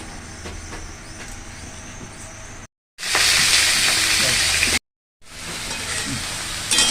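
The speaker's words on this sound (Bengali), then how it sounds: "পটলগুলো ভেজে নেব, তেলে দিয়ে দিয়েছি" Loud, hissing sizzle of pointed gourd frying in hot oil, broken by two brief moments of silence, with a quieter rumbling hiss at the start.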